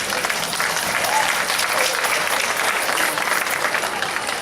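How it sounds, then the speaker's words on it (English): Sustained crowd applause at a school pep rally, steady and dense clapping from a large gathering throughout, with no break in the sound. "We need to give a round of applause for those"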